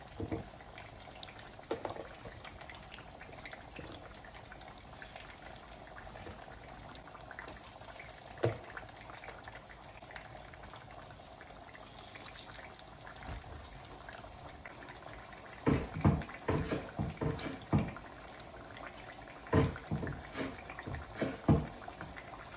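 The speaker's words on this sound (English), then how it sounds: "Let's go ahead and drop them in the oil and fry until golden brown." Pieces of boniato fry in hot oil with a steady, soft sizzle and bubbling, and louder crackles and pops come in bursts toward the end.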